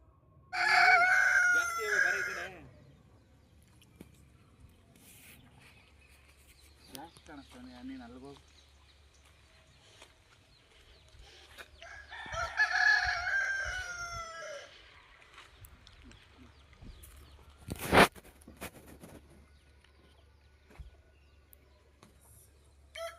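Roosters crow loudly at the start and again midway on a farm where chickens are kept, with softer clucking between and people talking quietly in the background.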